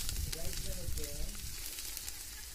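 Poha going into a pan of fried onions and tempering, with a loud steady sizzle and some stirring scrapes, briefly overlaid by voices.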